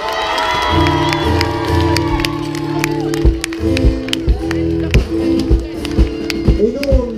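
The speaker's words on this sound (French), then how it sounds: "Vous pouvez vous applaudir bien fort" A large outdoor crowd cheering and applauding at a Bastille Day evening show in Berck-sur-Mer, with a dense roar and shouts under loud sustained music tones, and scattered sharp claps standing out.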